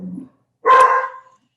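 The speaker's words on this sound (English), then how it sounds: "sorry, I have 3 dogs, so there's some deer outside" Dogs barking at deer outside, one sharp close bark after a brief low rumble, then silence.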